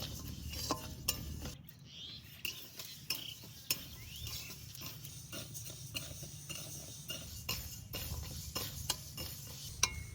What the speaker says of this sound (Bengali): ডাল হালকা করে একটু ভেজে নিয়েছি, সুন্দর সেন্ট বেরিয়েছে।